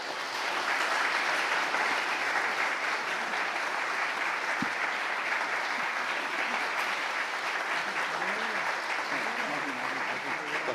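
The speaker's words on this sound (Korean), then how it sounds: "그동안 수고 많이 하셨는데 큰 경의의 박수 부탁드리겠습니다." A congregation applauds retiring members at a church thanksgiving service for retirement and ordination, sustained steady clapping filling the room at even strength, with a brief voice rising near the end.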